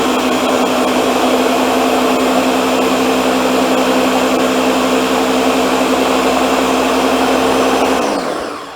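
A kitchen appliance runs at high power mixing black bean brownie batter, a loud, steady motor whine with a constant pitch that holds for several seconds before winding down at the end.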